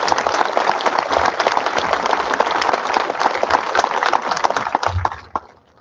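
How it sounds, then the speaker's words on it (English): A crowd at a graduation ceremony breaks into sustained, dense applause, loud and close, then it quickly dies away near the end. "I'd like to have a round of applause for all those individuals now,"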